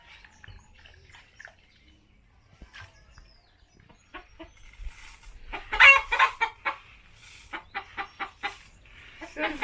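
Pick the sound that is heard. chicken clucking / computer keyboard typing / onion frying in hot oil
chicken clucking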